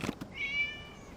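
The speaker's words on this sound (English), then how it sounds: "It was just a cat." A cat meows once in Genshin Impact, a short clear rising-and-held mew that follows a couple of soft thuds, fairly quiet against a calm game background.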